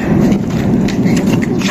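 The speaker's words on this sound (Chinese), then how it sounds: "你们看看这天上打雷了，下雨了" Thunder rumbles low beneath a steady wash of rain during a rainstorm in Germany, heard close and continuous without voices.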